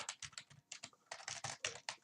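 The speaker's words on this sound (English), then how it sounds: "My typing is getting better, definitely." Close, rapid clatter of fingers on a computer keyboard, bursts of keystrokes with short pauses between them, alone in a quiet room.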